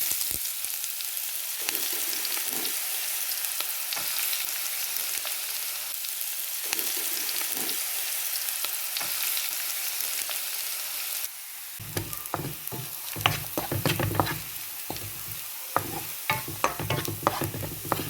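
Fenugreek seeds and onions fry in oil, first as a bright, hissing sizzle, then as a busier crackle with clattering spoon scrapes once the onions go into the pan.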